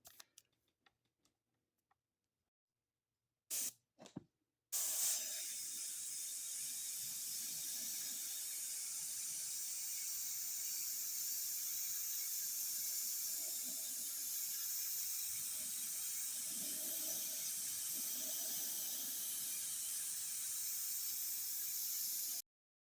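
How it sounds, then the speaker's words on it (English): After a few brief clicks and knocks, a loud, steady mechanical hiss and hum starts up abruptly and runs continuously, like a machine motor kicking on. "That was my air compressor kicking on."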